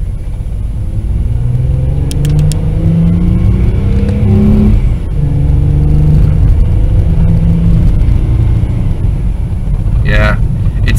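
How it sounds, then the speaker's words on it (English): Running 2004 Mercedes with a transmission fault pulling under acceleration, its low engine rumble rising in pitch, dropping sharply around a harsh, slow gear shift and climbing again, loud and close throughout, with someone talking over it. "There's that harsh shift, yeah. It takes a lot longer to shift too."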